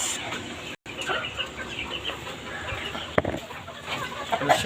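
Chickens on a farm cluck softly and scattered through steady background noise, with a few brief sharper calls near the end and no clear talk.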